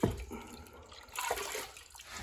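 Fresh water is poured and sloshed over prospecting paydirt outdoors in Montana, faint splashing and trickling in uneven bursts after a brief knock at the start.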